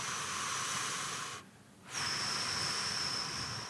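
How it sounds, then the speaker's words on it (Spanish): Breathy exhalation hiss during a guided breathing exercise, steady and close, broken by a brief pause before a second long exhale; no voices. "Exhalamos."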